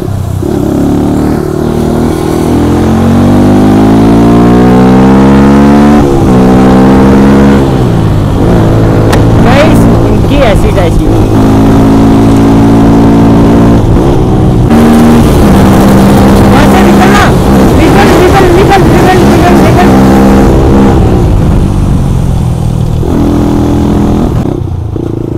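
Motorbike engine revving hard during a road race with a damaged bike, loud and close, rising and falling in pitch through repeated gear pulls, with a voice talking over it at times.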